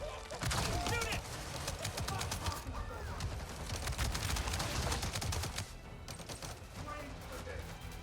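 Rapid bursts of automatic gunfire crackle almost nonstop through a firefight in the video game Avatar Frontiers of Pandora, loud and dense, with voices faintly mixed in among the shots.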